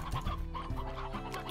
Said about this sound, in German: Hier ist ein Steinhuhn. Und noch ein paar normale Hühner.